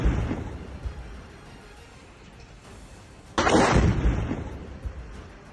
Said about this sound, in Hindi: भीषण धमाका हुआ।